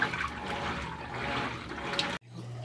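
Water rushes steadily as a Whirlpool washing machine drains, a continuous gurgling flow that cuts off abruptly near the end, leaving a low hum.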